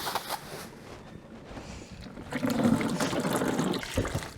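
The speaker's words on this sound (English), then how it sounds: "So we're gonna be rinsing our food." Running water rinsing vegetables for a vegetarian ceviche, a steady splashing trickle that swells louder midway, with bumps of handling, close and without talk.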